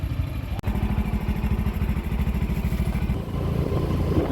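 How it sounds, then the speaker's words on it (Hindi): A motorcycle carrying two riders on the road up Fort Monroe, its engine chugging in a steady, rapid beat close by, with a brief dropout near the start before the rhythm carries on. "मैं पीछे बैठूँगा, ताउर जो है ना वो मोटरसाइकिल राइड करेंगे"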